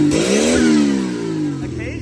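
A turbocharged car fitted with an Aces Killshot engine that refuses to idle revs up, its pitch climbing then sagging unevenly, loud and close, with a voice mixed into the engine noise.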